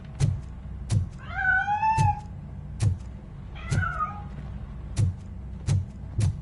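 A cat meows twice in a RoboCop video game, drawn-out wavering cries set against regular, evenly spaced footstep-like thumps and faint background ambience.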